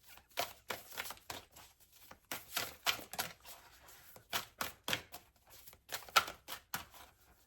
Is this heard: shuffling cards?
yes